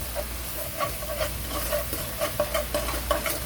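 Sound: seasoning sauce simmering in pan

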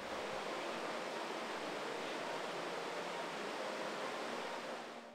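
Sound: water flowing over falls at removed dam

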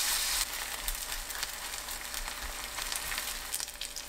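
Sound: perilla leaf seafood pancake batter frying in oiled pan

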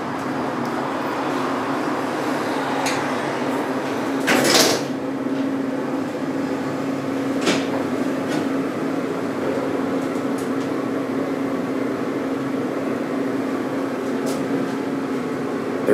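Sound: Montgomery hydraulic elevator descending

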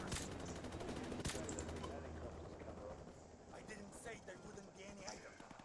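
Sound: M21 sniper rifle gunfire in video game Call of Duty MW Remastered

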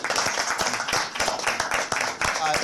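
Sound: applause for Ms. Roberts

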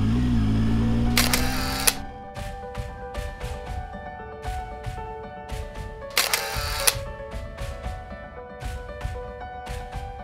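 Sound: camera shutter taking pictures

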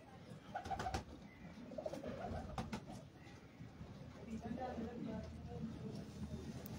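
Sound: pigeons cooing

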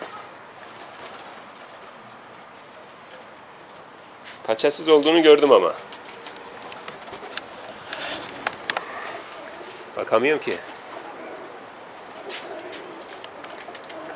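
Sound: pigeons cooing and flying

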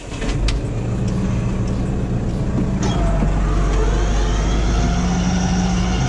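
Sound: tractor-driven mowing machine starting and running

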